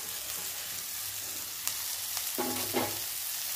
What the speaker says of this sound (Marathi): आता त्याच्यामध्ये आपण पत्तागोबी टाकूया चिरलेली।